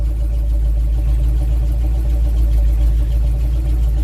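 A Simca Marmon 4x4 engine running steadily after starting in gear, a loud, close, low rumbling drone that holds even and unbroken throughout.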